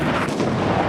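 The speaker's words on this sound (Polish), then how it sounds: "Moździerze, panowie, moździerze, moździerze." Mortar fire in the war shooter Six Days in Fallujah: a loud, dense boom with rumbling blast noise filling the short moment, no voices over it.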